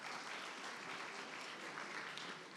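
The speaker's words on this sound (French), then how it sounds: "Belle nouvelle qu'on peut applaudir." Steady applause from a crowd, a dense continuous patter of clapping heard from some distance.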